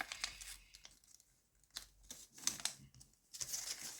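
Sheets of colored origami paper being folded by hand for a simple gold car model, giving soft crinkling and crisp creasing rustles in short bursts separated by quiet gaps, close and fairly faint, with no talking.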